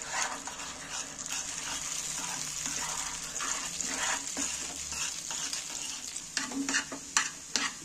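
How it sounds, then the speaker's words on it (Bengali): Beaten egg sizzles in hot oil in a pan as it is stirred and broken into small pieces, a steady close frying hiss with scraping stirring strokes, and a dog barks faintly in the background. "ডিমটা প্যানের মধ্যে ঢেলে দিচ্ছি।"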